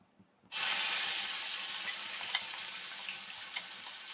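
Ginger garlic paste hits hot oil in a pan for chicken pickle, bursting into a loud, sudden hiss after brief quiet, then a sustained close sizzle with faint spatter pops.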